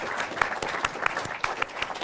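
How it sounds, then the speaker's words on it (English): A modest audience at a film festival award show claps for a runner-up: a brief burst of distinct, fairly close hand claps without talk. "And give them a round of applause, everybody."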